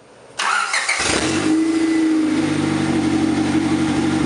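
A Honda Civic wagon engine with a swapped B20 engine cranks briefly, then catches and settles into a steady, close idle with a low hum.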